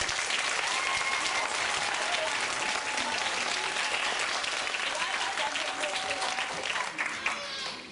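Audience applause at an amateur theatre group's performance, steady dense clapping from a room of spectators, continuous and even, with a few faint voices underneath.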